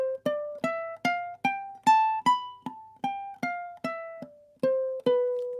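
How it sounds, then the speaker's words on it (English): A ukulele plays the B Lydian scale as about a dozen clean plucked notes in a steady, evenly spaced run, each ringing briefly before the next, alone with no talking. "But B Lydian, just for context, sounds something like this."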